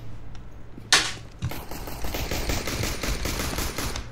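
In CS:GO competitive play, a sharp shot rings out, then rapid, sustained automatic gunfire rattles on in a dense, steady stream.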